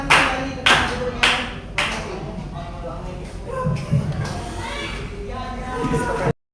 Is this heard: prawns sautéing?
no